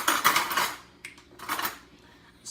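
A tiny metal spoon and a mini cup are picked up, giving sharp clattering clinks in a few short bursts with quiet gaps between them.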